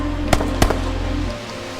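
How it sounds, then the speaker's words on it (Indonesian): Two sharp, loud gunshots in a film fire in quick succession over a steady low rumble of background noise. "Suara tembakan itu terdengar sampai ke markasnya."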